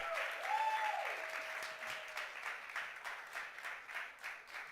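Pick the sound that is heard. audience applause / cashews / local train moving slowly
audience applause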